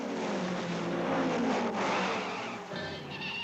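Cartoon race car engine roaring steadily during an auto race, loud and continuous with a rising, revving whine that shifts pitch near the end, no voices over it.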